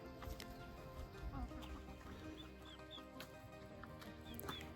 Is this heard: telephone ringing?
no